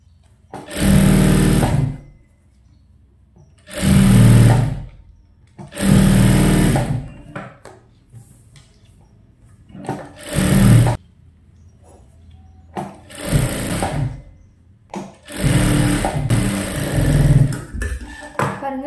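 Sewing machine running in repeated bursts of stitching around a princess-cut blouse, seven runs of about a second or two each separated by short pauses, close and fairly loud with no talking.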